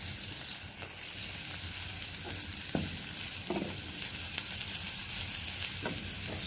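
Cauliflower rice with chopped parsley stirred in a hot pan, a steady sizzle under scattered scrapes and soft clicks of the utensil against the pan, close and moderately quiet.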